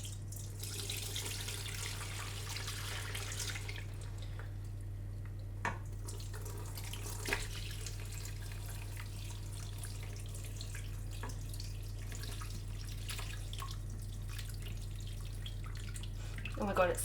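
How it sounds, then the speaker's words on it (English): Liquid is poured in a home kitchen while cooking a vegetarian recipe from the Mildreds cookbook, a steady splashing and trickling stream over a constant low hum, broken by a few faint clinks. "the next step involves pouring, which has never been my strong suit"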